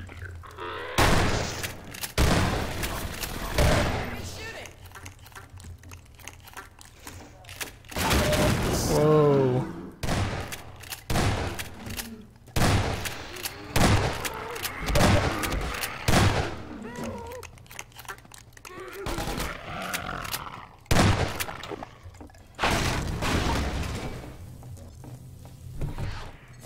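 Gunfire and explosions in Half-Life 2: Episode One during a city battle against an antlion guard, with bursts of shots, booms and grunts coming in irregular clusters, mixed with someone talking.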